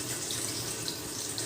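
Water falls continuously as simulated rainwater onto a piezoelectric plate, with steady running and splashing noise like a tap filling a sink. The flow is close, constant and unbroken for the whole moment, with no voices.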